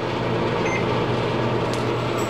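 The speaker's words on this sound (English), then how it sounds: "Set your microwave to 2 minutes and 30 seconds" A microwave oven hums steadily at close range while heating popcorn, a constant low drone with a faint click near the end.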